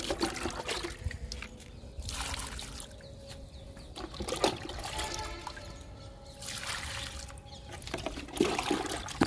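Liquid fertilizer poured from a mug into tubs of okra plants, several splashing pours and trickles in bursts separated by brief pauses, with faint birds in the background.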